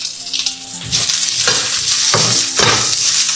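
Green and red chili sautéing in hot oil with a little salt, a close, steady sizzle broken by a few scraping stirs of the spatula, with no voices.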